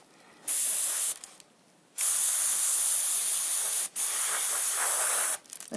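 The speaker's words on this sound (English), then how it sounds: "lay your hand wherever you're spraying." Paint hisses from an airbrush in three bursts separated by short pauses, close and fairly loud, while a stencil mask is being sprayed for a Monster Energy logo.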